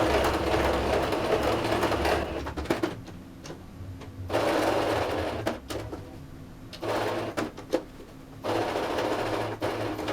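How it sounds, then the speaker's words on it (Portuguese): A sewing machine stitches an overlay onto the yoke of a child's dress in long, steady whirring runs broken by short pauses and a few clicks. It is close and loud with no talking. "vamos agora costurar a sobrepala na pala"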